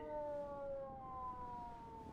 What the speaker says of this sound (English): that sounds more like an ambulance